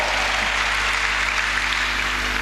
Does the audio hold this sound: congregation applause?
yes